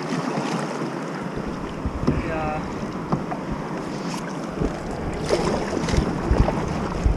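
Canoe on a lake circuit, hull and paddle strokes splashing close by with irregular knocks and water slaps over steady wind noise buffeting the microphone.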